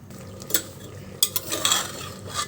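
A tempering (tadka) being stirred in a pan, with scraping and stirring strokes and a soft sizzle of frying, in bursts at close range with no talking.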